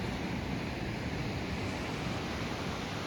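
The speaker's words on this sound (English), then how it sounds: "As you can listen these waves." Ocean surf breaking on a beach in Goa at sunrise: a continuous, even roar of waves wash with steady hiss and rumble, moderately loud and unbroken, with no voices.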